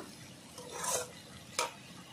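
Banana flower curry stirred in a pan over low heat: a brief, faint scrape and shuffle of the spoon through the mixture, rising and falling twice, with a soft sizzle underneath.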